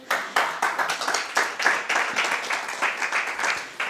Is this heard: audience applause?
yes